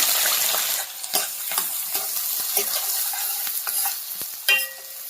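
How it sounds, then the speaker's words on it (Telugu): Onion and green chillies with tempering seeds frying in oil in a pan for a brinjal-tomato curry, giving a steady close sizzle with repeated scraping stir strokes and a brief clink near the end. "ఆనియన్ పచ్చిమిర్చి అయితే యాడ్ చేస్తున్నాను"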